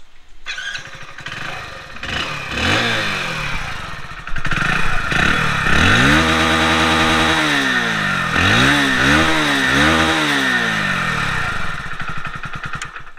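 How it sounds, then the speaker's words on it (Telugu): A 2023 Hero HF Deluxe motorcycle starts up and idles, its exhaust note rising and falling through repeated throttle revs, loud and close, with a steady engine drone between blips and no talking. "ఎగ్జాస్ట్ నోట్ అయితే వినండి"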